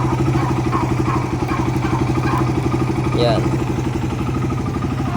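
A Suzuki Raider 150 carburetor motorcycle engine idles steadily nearby, a loud, even mid-pitched putter with a dense pulsing rhythm, while someone speaks briefly over it.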